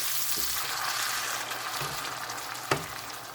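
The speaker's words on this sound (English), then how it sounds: "I'm going to go ahead and add my tinned tomatoes. And again, give that a good mix." Ground beef frying steadily in a pan as tinned tomatoes are stirred in, a constant soft sizzle with a few faint scrapes of the spoon and one brief knock near the end.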